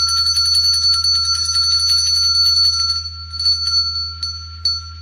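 A bell rings loudly and steadily with a bright sustained tone that fades in the last seconds, over a constant low electrical hum, with no talk.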